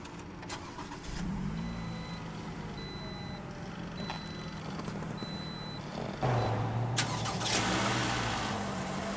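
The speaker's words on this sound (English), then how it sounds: "let's go ahead and start her up" A 2018 Toyota RAV4 XLE AWD compact crossover starts with push-button ignition, its engine catching near the end and settling into a steady idle after a stretch of quiet mechanical hum and faint chimes.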